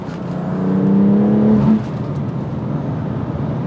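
A 2020 BMW M2 CS engine under throttle, heard from inside the car, with a rising engine tone that builds for over a second, then drops at a gear change into a steady road and engine hum, with no talk.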